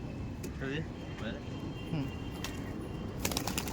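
Giribaj pigeons coo softly in short repeated calls over a low background hum, with brief clatters toward the end.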